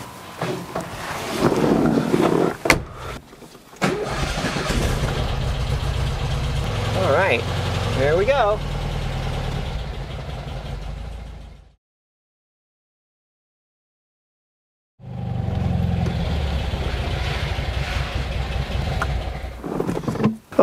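A Porsche 356C engine idles and revs as it warms up before an oil change, then pulls away driving, a steady close mechanical drone with people talking over it, cutting to a few seconds of silence before resuming.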